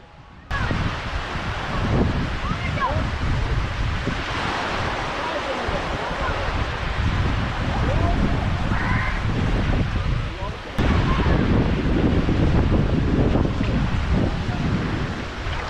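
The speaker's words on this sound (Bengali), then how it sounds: "সমুদ্রের পাড়ে বসে ঢেউয়ের আওয়াজ শুনতে খুব ভালো লাগে" Ocean waves break on the beach at Mandarmani in a steady, continuous roar, with strong wind rumble pressing on the microphone throughout and no clear pauses between surges.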